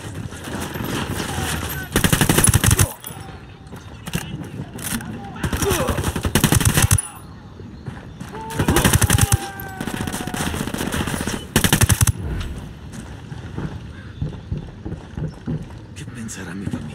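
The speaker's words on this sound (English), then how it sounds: "Opening fire on these fuckers." Machine gun fire in the video game Ghost Recon Wildlands: several loud sustained automatic bursts separated by pauses, with game sounds and voices in between.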